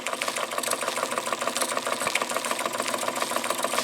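A Jensen Model 75 toy steam engine runs steadily after a hard start, giving a continuous close mechanical chatter and hiss with a fast even rhythm and no voices.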